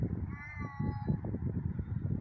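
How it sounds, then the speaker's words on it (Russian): A cat meows close by at a door, a drawn-out, plaintive cry followed by softer murmuring mews. "Пришла и муркает под дверью."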